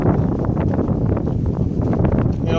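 Strong wind buffets the microphone beside the very salty Saki lake near Yevpatoria in Crimea, a loud, constant roar and rumble with no pauses.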